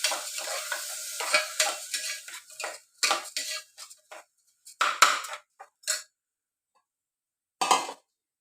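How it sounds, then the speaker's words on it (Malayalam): A spatula scrapes and stirs raw rice grains in a hot pan in quick bursts with a light sizzle, then pauses, with a couple of short scrapes near the end. "നല്ലപോലെ വറുത്തെടുക്കണം"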